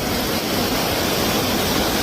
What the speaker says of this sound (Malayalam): ആ കല്ലെല്ലാം മൂടി വെള്ളം കൂടിക്കൊണ്ടിരിക്കുകയാണ്